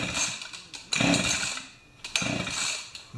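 Pioneer Partner 500 chainsaw being pull-started: two bursts of the recoil starter rasping and the engine sputtering briefly, loud and close, with no talk.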